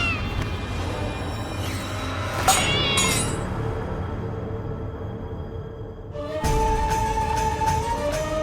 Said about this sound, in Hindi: हे भगवान, ये बिल्ली कहाँ से आ गई?